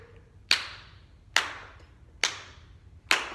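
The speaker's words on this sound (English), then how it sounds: "stomp, snap, clap, clap" Four single hand claps land in a steady, evenly spaced rhythm as body percussion to a song. Each clap is sharp, close and alone, with quiet pauses between them.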